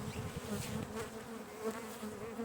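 Honey bees swarm around a hive being robbed, giving a continuous, dense buzzing hum with a steady droning pitch, close and unbroken.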